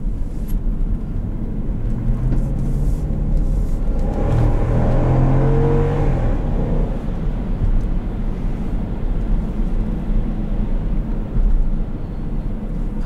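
A 2012 Jeep Grand Cherokee Limited with a stock 5.7L HEMI V8 and true dual exhaust revs up loudly, rising to a deep rumbling roar for a couple of seconds before settling back to a steady idle drone.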